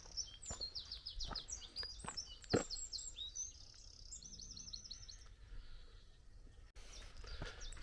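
Birds chirp and sing along the River Eye near Upper Slaughter in the Cotswolds, with a run of bright overlapping calls at the start giving way to sparser, quieter tweets over soft outdoor ambience.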